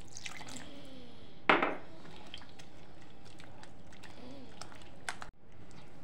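Milk is poured into thick homemade cake batter for an eggless, oven-free fresh cream sponge cake, then whisked in: a sharp wet splash is followed by soft sloshing and stirring, with faint trickles and quiet talk around it.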